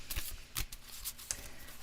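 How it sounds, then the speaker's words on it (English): Oracle cards shuffled by hand, giving several quick, soft riffling bursts at an irregular pace, close and fairly quiet with no talking. "I'm going to shuffle the cards 3 times"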